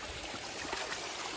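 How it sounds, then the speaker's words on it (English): A small waterfall on a Georgia hiking trail gives a steady, close rush of falling water with no other sounds over it. "Look at that little waterfall."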